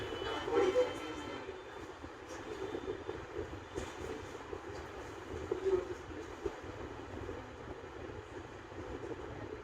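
A metro train runs with a steady, moderately loud rolling rumble and a faint high whine, its level swelling slightly now and then, while soft voices murmur in the background.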